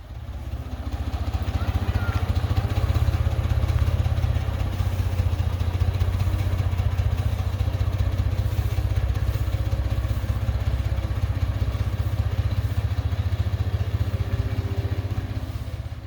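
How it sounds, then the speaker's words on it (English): A tractor engine runs steadily as it drives into a tent garage, a loud, continuous mid-pitched rumble with a clattering edge that holds for the whole stretch. "I'm going to bring the tractor in and see how it fits."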